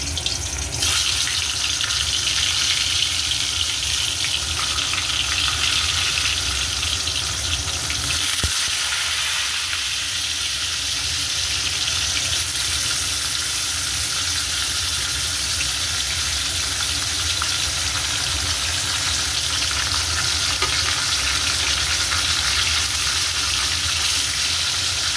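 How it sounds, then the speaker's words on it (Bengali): Pieces of pointed gourd fry in hot oil in a wok, a dense, continuous sizzle that holds steady for a long stretch, close and loud, with only a brief shift in texture partway through. "পটলের এই ছোট কাটা অংশগুলোকেও ভেজে নেব।"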